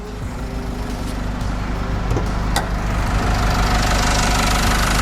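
An Isuzu D-Max 1.9-litre Blue Power turbo diesel engine idles with a steady low rumble and faint ticking, close by, running evenly without revving.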